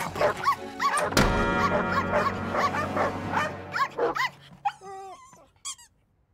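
A cartoon dog barks loudly and repeatedly, then yips and whimpers in high wavering whines toward the end, heard close up with music or other sound underneath.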